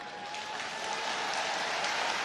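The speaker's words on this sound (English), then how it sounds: "and everyone like clapped." A debate audience breaks into sustained, dense applause, a steady wash of many hands clapping that holds at an even level throughout.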